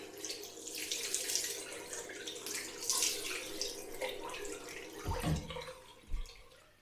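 Tap water runs into a sink while someone splashes and rinses alum off a freshly shaved face, with soft intermittent splashes and a couple of louder handfuls near the end, fairly quiet throughout.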